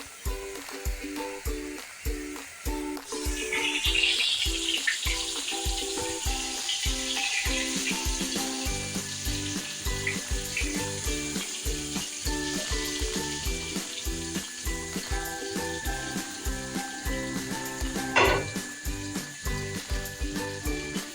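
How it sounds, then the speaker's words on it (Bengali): Young jackfruit pieces fry in hot oil in a wok while a prawn curry is being made, giving a steady, fairly loud sizzling hiss that runs for the whole stretch over a regular low thumping pulse. "কাঁঠাল চিংড়ির কাঁঠালটা এখন ভাজা হচ্ছে।"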